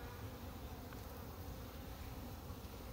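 Honey bees humming inside a hive, a dense, continuous buzz that stays soft and even throughout with no voices over it.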